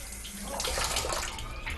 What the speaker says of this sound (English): People are used to getting water just by turning on a tap.